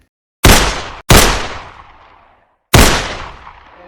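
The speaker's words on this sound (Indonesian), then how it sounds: "Siddiq tewas di tangan tentara Belanda lainnya karena tertembak." Three loud, close gunshot sound effects in a student war film about the Battle of Surabaya, each a sharp crack with a long decaying tail, the first two in quick succession and the third after a pause.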